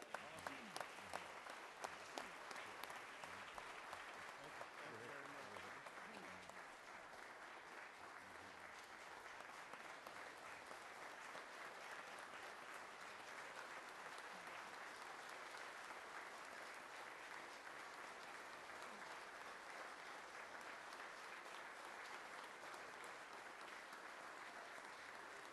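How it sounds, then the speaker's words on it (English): Sustained audience applause fills the Georgia Senate chamber, steady and dense for the full length with a few sharper claps at the start and no voices above it. "Let's give them a big round of applause."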